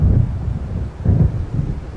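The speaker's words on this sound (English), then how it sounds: "It seems there's a storm coming." Thunderstorm in the video game Alan Wake: a low, rolling rumble of thunder with wind noise, swelling in two or three waves that stay steady and fairly loud, with no voices.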